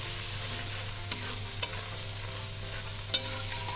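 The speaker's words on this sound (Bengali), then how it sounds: "এবার সব কিছুর সাথে মশলাটাকে ভালো করে আমি কষিয়ে নেব" Masala with ground tomato being stirred and fried in a pan for a fish roe curry, a soft steady sizzle with occasional scraping clicks of the spatula, no voices.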